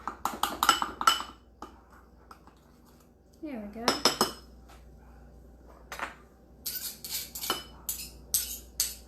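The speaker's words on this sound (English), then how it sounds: "probably going to use a spoon, make sure all of it's up from the bottom." A spoon clinks and scrapes against a mug while stirring keto pumpkin spice mug cake batter, rapid metallic rattling bursts in clusters with pauses, and a brief spoken remark in between.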